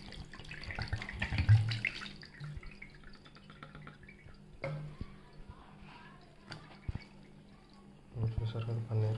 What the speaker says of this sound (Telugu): ఇంకా కంప్లీట్ కూలింగ్ వాటర్తో వాష్ చేయండి.